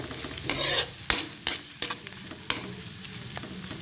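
Garlic and onion sautéing in a pan for chicken tinola, a steady sizzle broken by several sharp scrapes and clacks of a utensil stirring, close and fairly loud, with no voices.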